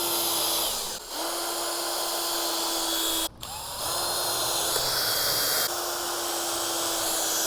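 A power drill drives screws into 2x6 boards for an outdoor table, whining loudly and continuously in close bursts with brief pauses between runs.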